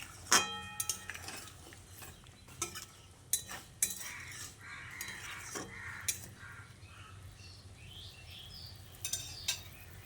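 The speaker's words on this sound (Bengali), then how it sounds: "তারপর ঝোলের সঙ্গে ভালো করে নেড়েচেড়ে মিশিয়ে নিচ্ছি" Fried fritters are stirred into gravy in a pot, with soft scraping and spoon clicks against the metal. A crow caws nearby and further off in the background.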